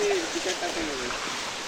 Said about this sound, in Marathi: जोराचा पाऊस चालू आहे